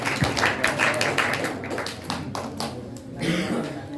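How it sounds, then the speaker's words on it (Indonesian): Scattered hand claps ring out in an indoor gathering at an Islamic study session, uneven and fairly close, with a few sharp taps standing out over a murmuring room. "Tepuk tangan sekali lagi kepada materi kita"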